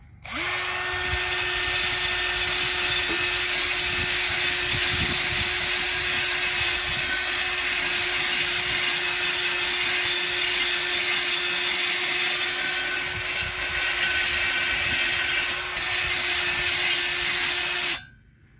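A cordless drill spins a wire wheel continuously at close range on a Mitsubishi Pajero alloy wheel rim, a harsh whirring scrub that runs steadily for about eighteen seconds, then stops.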